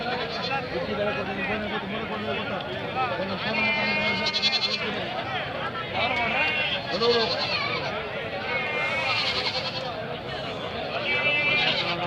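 Native-breed lambs bleat repeatedly at the Gandasi weekly lamb market, amid loud, busy crowd chatter and nearby voices.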